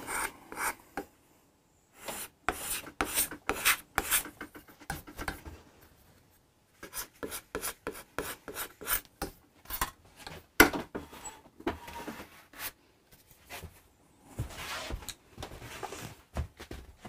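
A hand scraper works the wood of a Hofner Galaxie guitar during restoration, giving close, dry rasping strokes in quick bursts with brief pauses between them. No one speaks.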